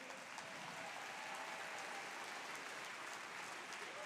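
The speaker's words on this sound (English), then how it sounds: "Give a big round of applause for them." Audience applause for ice skaters at a musical ice show, a continuous, even wash of clapping from a large crowd, steady from start to finish and heard without speech.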